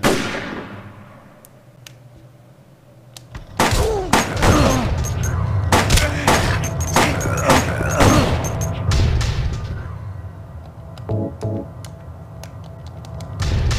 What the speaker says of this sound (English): you're basically just kind of trading gunfire with him